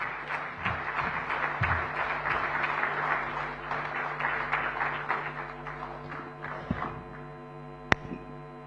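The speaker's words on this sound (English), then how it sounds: "please let's welcome with a resounding round of applause Honorable Chief Minister of Maharashtra, Shri Devendra Fadnavis ji" An audience at a national convention of the Indo-American Chamber of Commerce breaks into sustained applause to welcome the Chief Minister of Maharashtra, dense clapping that fades over several seconds before a sharp tap near the end.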